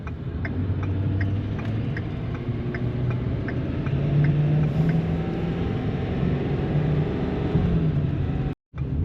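A one-ton truck drives en route to a scrapyard, its engine droning low and steady from inside the cab with a faint repeating ticking over the hum.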